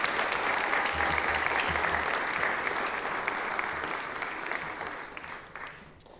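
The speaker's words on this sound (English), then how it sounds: "let's give her a round of applause." An audience at a career and technical education celebration night applauds a scholarship recipient with dense, steady clapping that gradually fades toward the end.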